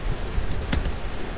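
Keys tap on a computer keyboard as commands are typed, a few quiet, close clicks spread over a short stretch.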